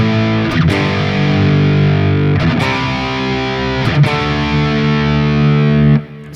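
Electric guitar riff played without an added effect, a sustained distorted chord texture with sharp picked attacks recurring roughly every second and a half, loud and steady until it cuts off near the end.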